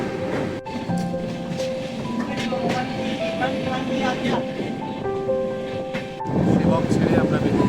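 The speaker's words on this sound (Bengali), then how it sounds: "আমরা ট্রেনে করে এগিয়ে চলেছি মাল জংশনের উদ্দেশ্যে" A passenger train runs along rails from Siliguri toward Mal Junction beside a river, a continuous rolling rumble with clacks and scattered tonal squeaks, growing louder near the end.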